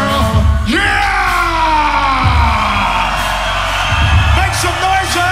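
A concert crowd on the 2011 Eurotech Tour, a loud, sustained roar of yelling and cheering with a voice calling out over the top and swelling sounds rising and falling.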